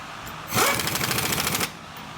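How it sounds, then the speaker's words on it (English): A cordless impact wrench runs bolts down on a 2011 Kia Forte motor mount: one loud, rapid hammering burst of about a second, close by, with quiet before and after. "I don't know how strong this impact is, so I'm going to just run them down and then tighten them by hand"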